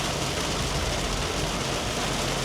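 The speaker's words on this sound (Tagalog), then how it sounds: "napakalakas ng ulan" Heavy rain pounds a car on a road trip around Kaybiang Tunnel and Tagaytay: a dense, steady roar of water with a low road rumble underneath, loud and unbroken, with no one talking.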